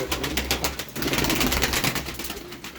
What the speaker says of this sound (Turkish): Burada 10 çift kuş var.